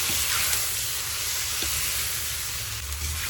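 Duck fries steadily with turmeric and black pepper in a cauldron over a campfire while being stirred, with occasional scraping strokes under the continuous frying hiss.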